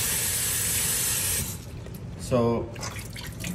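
Tap water running over soaked chickpeas being washed for hummus, a loud steady hiss of spray close by that stops after about a second and a half, followed by a brief spoken word and quieter room sound.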